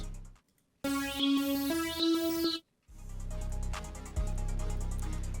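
Lead Machine synth lead in FL Studio playing two sustained transition notes, a bright, buzzy tone stepping up once, followed by a full beat with bass and drums.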